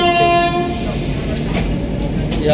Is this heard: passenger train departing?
yes